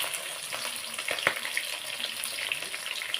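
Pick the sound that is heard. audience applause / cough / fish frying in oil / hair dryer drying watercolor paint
fish frying in oil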